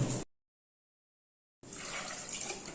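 Water pours into a pot of cut brinjal pieces in a home kitchen, a steady close splashing flow that starts after a brief silent gap and continues to the end.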